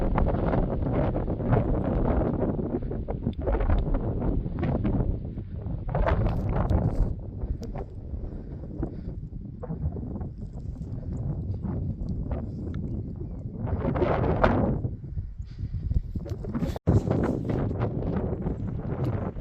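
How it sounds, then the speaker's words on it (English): Strong wind buffets the microphone on the exposed summit of Mount Jackson, loud roaring gusts that surge and ease throughout with a sharp knock near the end and no talking. "It is going to be breezy up here now, exposed."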